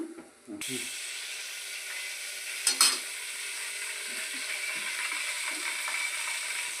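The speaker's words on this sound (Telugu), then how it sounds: "నేనైతే చారు తాలింపు పెడతాను" Garlic and curry leaf tempering sizzles steadily in hot oil for rasam in a village kitchen, a continuous close hiss with a couple of sharp clinks partway through.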